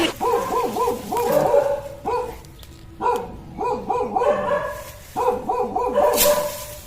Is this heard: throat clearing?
no